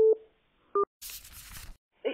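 Telephone busy signal after a call is cut off, short repeated tones with gaps, followed by a burst of noisy rustle, heard alone and fairly close.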